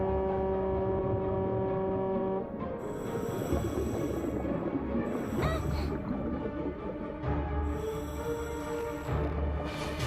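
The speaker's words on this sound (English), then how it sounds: "The air horn." A cartoon air horn lets out a loud, sustained honking blast in a few long bursts, with a steady tone riding over background music.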